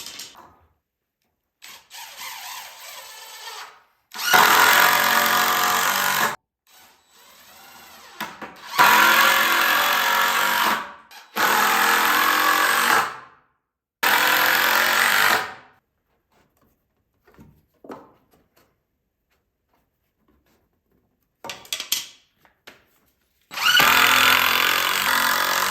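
A power drill drives 2.5 inch screws into workbench wood, several loud whirring bursts of a few seconds each separated by pauses, close and with no talk.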